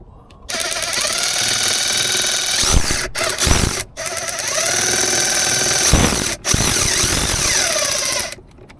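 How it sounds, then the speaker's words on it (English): A ratchet backs out the steering wheel bolt on a BMW F8X with a six-speed manual. It makes a loud, sustained mechanical whirring in long runs, broken by a few brief pauses. "next is removing the bolt, and we just use the ratchet"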